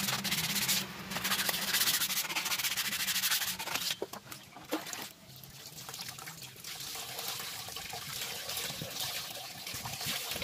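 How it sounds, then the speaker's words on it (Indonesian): Steady abrasive rubbing of sandpaper against a Toyota Avanza rear brake shoe, continuous and fairly close, with a brief pause midway before the scraping resumes. "Oke, kita bersihkan, kita amplas ya."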